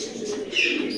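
A pigeon gives a short, soft coo nearby in a single brief call.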